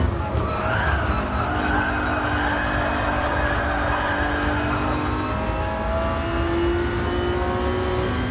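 LaFerrari race car in GT Sport, an engine droning steadily at high revs with tires squealing through corners, continuous and loud with a voice faint underneath.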